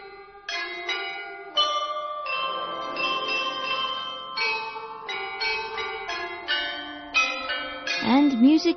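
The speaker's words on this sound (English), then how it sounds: "They're like chimes." Ancient Chinese chime bells, the qing and bianzhong, are struck one after another in a slow, ringing melody, each clear tone sustaining and overlapping the next, with a voice briefly heard near the end.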